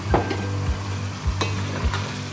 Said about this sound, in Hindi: 1 मिनट तक भूनेंगे, लहसुन अदरक और गोश्त को